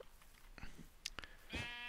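Brown sheep bleating in the video game Minecraft, a few short nasal calls scattered over a quiet background, with a longer harmonic bleat near the end.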